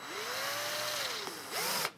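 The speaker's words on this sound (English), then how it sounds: "chuck it into the drill driver" A drill driver spins a headless nail used as a bit into wood, a rising motor whine that holds steady, dips briefly, then revs again, close and alone.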